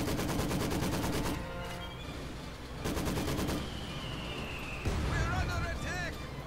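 Rapid bursts of gunfire crackle continuously in a Company of Heroes 2 battle as snipers fire on German units, dense and loud, with repeated volleys and a faint whistling tone later.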